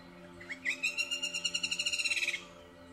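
A golden-backed woodpecker gives a single loud, close call: a rising note that breaks into a fast, accelerating rattle of sharp notes lasting about two seconds, over a steady low hum.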